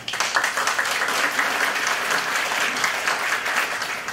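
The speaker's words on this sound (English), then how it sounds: "let's give a warm welcome to Mary Ellen Geist." Steady, dense applause from a sizable crowd, filling the whole stretch at an even, moderately loud level with no voices on top.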